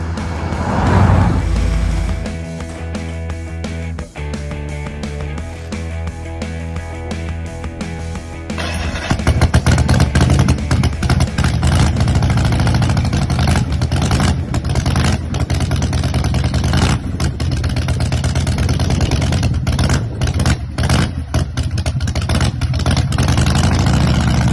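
A handbuilt chopper motorcycle engine starts partway through after quieter sounds, then runs loudly and steadily at idle with a rough, throbbing tone.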